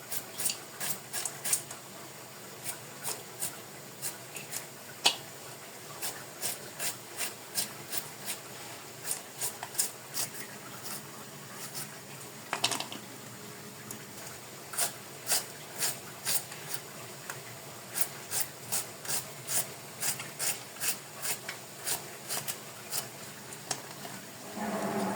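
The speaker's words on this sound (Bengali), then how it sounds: "প্রথমে আমি পেঁয়াজুর জন্য পেঁয়াজগুলোকে কুচি করে কেটে নিচ্ছি" Kitchen knife chopping onions and chilies on a board for piyaji, a crisp Ramadan iftar fritter, with a long run of sharp, fairly quiet regular taps, mostly steady with brief pauses, heard alone.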